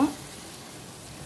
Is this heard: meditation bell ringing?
no